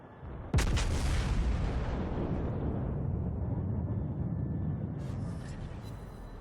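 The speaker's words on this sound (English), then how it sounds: "So Furutaka again, broadside again, and I land a couple of good shots" A battleship's broadside booms in the naval combat game World of Warships, one sharp loud blast followed by a long rumbling decay, with a fainter crackle of further shots near the end.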